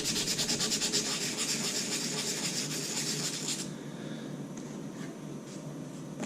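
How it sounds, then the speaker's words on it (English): Abrasion tape rubbed briskly back and forth over a surface before fitting a KillerBug strain gage and telemetry unit, a close rhythmic scratchy rasping for several seconds that then stops, leaving faint room noise. "So first of all, we use a little bit of abrasion tape."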